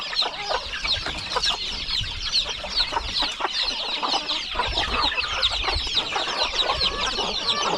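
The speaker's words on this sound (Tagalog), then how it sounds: "Marami tayong sisiw." Many chicks peeping together on a Filipino farm, a dense continuous chorus of high, overlapping chirps, close and steady throughout, with faint farm background beneath.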